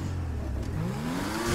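A car engine in the video game GTA V Online, heard during a parkour race, revs up with a steadily rising whine, sustained and fairly loud, with no talking over it.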